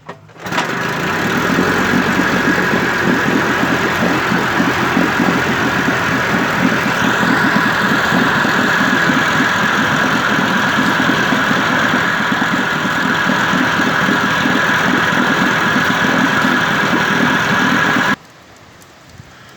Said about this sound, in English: I always like to get it to start first time once it's warmed up.